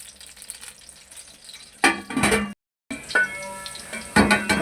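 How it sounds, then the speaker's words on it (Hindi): Green chilies fry in hot oil in a pan, a steady close sizzle broken by stirring clatter and a brief silent gap, with loud bursts of crackling. "हमारी मिर्चें ये देखें बहुत अच्छे तरीके से फ्राई होगी"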